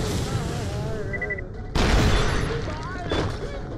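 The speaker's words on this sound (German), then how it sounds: "Das ist mit dem Raketenwerfer Gegner zu töten mit indirekten Treffern." Rocket launcher blasts from the shooter game Borderlands: The Pre-Sequel, with a sharp loud burst midway and a smaller pop later, set among electronic game effects and tones.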